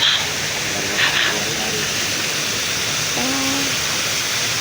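Waterfall in a forested butterfly conservation area: a steady, broad rushing hiss of falling water runs throughout, with faint birdlike chirps and a brief tone sounding over it.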